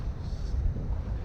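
Steady wind buffets a Bavaria 41 sailboat on a fjord at around seven meters per second, a continuous low rushing roar with microphone rumble and no talking.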